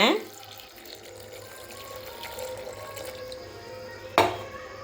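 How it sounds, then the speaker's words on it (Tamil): Water splashes and trickles steadily into a pot of lentils at close range, with a short clank of metal near the start and again near the end. "பருப்பு முழுகிற அளவுக்கு தண்ணி ஊற்றிக்கலாங்க."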